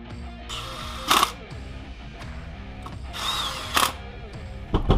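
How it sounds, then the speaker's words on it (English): Screws being driven back in with a power drill while installing a throttle body on an S197 Mustang, heard as two separate whirring bursts with a ratcheting clutch clatter, close by, with no talking. "So we'll put these screws back in place."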